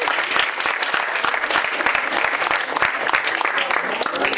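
An audience at a Ganesh festival quiz event claps continuously in loud, dense applause lasting the whole stretch.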